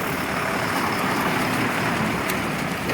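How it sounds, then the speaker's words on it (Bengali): Road traffic, cars, trucks and motorcycles, rumbles past under a railway bridge under construction on the Bishnupur–Tarakeswar line, a steady, loud wash of engine and tyre noise with no break. "এখানে দেখতে পাচ্ছেন এই যে গাড়ি ফাড়ি সমস্ত কিছু বেরোচ্ছে এখানে গাড়ি যাচ্ছে"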